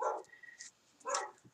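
A dog barks twice from downstairs, the sound muffled and fairly faint, with a short pause between the barks.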